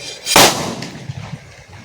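A single sharp bang from a homemade potash firecracker cracks out near the start, followed by a short fading rumble and faint scattered noises.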